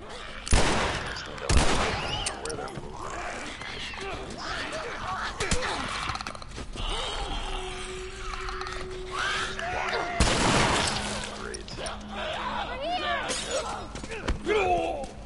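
A thrown bomb goes off in The Last of Us amid bursts of gunfire and sharp impacts, with loud blasts near the start and around the middle while players talk excitedly over the game sounds.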